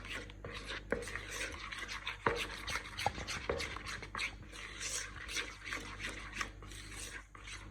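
Spoon stirring a thick truffle mixture of chocolate and cream in a bowl, close, continuous scraping and rubbing strokes with occasional light clinks against the side.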